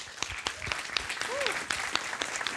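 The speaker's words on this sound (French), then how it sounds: "On peut applaudir Isabelle." A conference audience applauds as Isabelle is introduced at a web-series opening talk, scattered moderate clapping with a brief voice rising over it.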